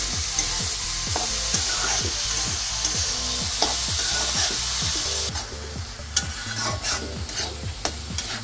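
Chopped spring onion greens are stir-fried in a pan, a spatula scraping and tossing in a steady rhythmic series of strokes over a constant sizzle, close and clear with no talk.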